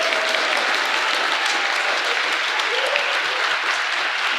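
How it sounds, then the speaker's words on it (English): Theater audience at City Opera House in Traverse applauds the directors and actors of a high school playwrights' showcase, a loud, dense, continuous wash of clapping from a large crowd. "So one more round of applause for them"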